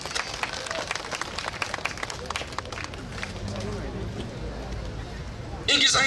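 Audience at a Korean district song contest awards ceremony applauding as a singer comes up to present an award: continuous clapping with crowd noise, moderately loud, getting louder near the end.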